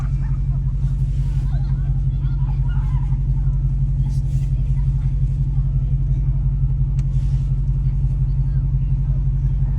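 A supercharged Dodge Hellcat engine idles with a steady, loud, low rumble that runs unbroken throughout, while indistinct voices murmur faintly in the background.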